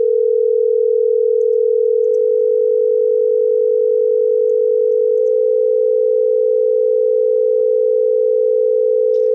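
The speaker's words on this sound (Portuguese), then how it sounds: "Veja que aqui é muito claro que são dois sons" Two steady pure tones set far apart in pitch sound together without pause, smooth and separate rather than beating, loud and alone with no voices.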